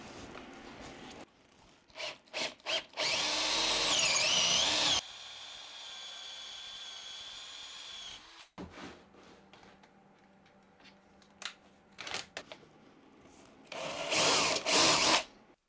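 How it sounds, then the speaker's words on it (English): A power drill bores holes through wooden blocks for an open-back shelf, with several loud bursts of whining motor and bit biting into wood, separated by quieter gaps of handling and clatter. "it's much more sensible to drill these holes first before gluing the blocks"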